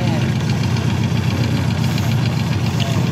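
A freshly overhauled Honda CB400Four motorcycle with a stock exhaust idles close by, a steady, even low-pitched engine rumble with a regular pulsing beat, under conversation.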